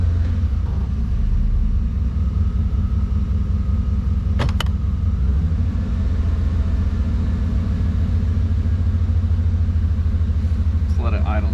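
A 1992 Chevy C1500 truck's engine idles with a steady, loud, close low rumble; a couple of small hitches come through, along with one brief sharp click partway through.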